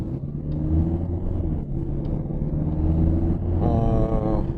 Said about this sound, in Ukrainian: Чути звук мотора